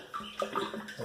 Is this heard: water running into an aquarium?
yes